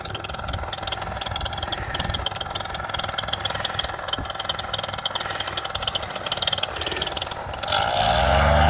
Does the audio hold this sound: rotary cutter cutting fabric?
no